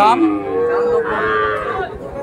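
A Sahiwal calf about eleven or twelve months old moos loudly and close at a cattle market, one long drawn-out call that wavers in pitch over about two seconds.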